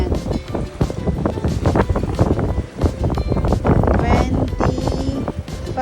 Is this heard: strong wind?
yes